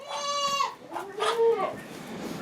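Two goats bleat close by in a small milking room, one long wavering call followed after a short pause by a second, with faint room noise between.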